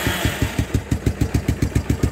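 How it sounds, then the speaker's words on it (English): A 1986 Kawasaki Bayou ATV engine idles close up, its single cylinder thumping in a steady, even rhythm of about six firing pulses per second, loud and alone. "Let it idle for a little bit."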